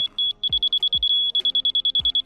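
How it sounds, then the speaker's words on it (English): A high, steady electronic beeping in rapid pulses from a grade level receiver during shop floor leveling, briefly merging into one continuous solid tone, with a few dull thuds underneath. "And you're listening for that solid beep"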